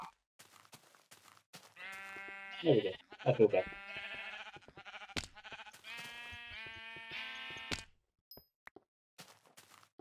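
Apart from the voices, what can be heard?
sheep bleating in Minecraft video game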